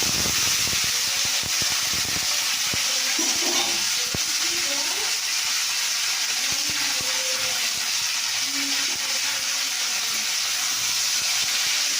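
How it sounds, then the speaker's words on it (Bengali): Fried onions are stirred in a hot pan: a steady sizzling hiss runs throughout, broken by scattered scraping and knocking strokes, close and moderately loud. "দেখো বন্ধুরা, পেঁয়াজটা দেখো ভাজা ভাজা হয়ে গেছে"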